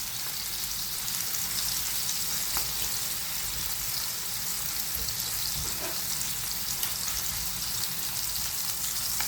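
A burger meat patty fries in a pan with a steady, dense sizzle that stays close and even throughout, with no talking over it.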